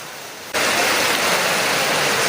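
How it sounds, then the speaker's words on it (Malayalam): Very heavy rain roars in suddenly after a quieter first half second, then keeps up as a loud, dense, steady downpour with no voices. "സൂപ്പർ അടാറ് മഴ."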